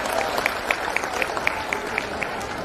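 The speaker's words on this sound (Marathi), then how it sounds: "सर्वांनी टाळ्या वाजून सर्वांचं स्वागत करायचं" A lecture audience claps in a steady, even rhythm, the beats sharp and regular over a background hum of the gathered crowd.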